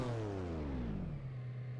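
A Lamborghini V12 in the racing game Test Drive Unlimited revs hard, its harmonic engine note sweeping downward and settling into a steady, loud drone, with no talk over it.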